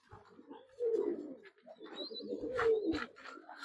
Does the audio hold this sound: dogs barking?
no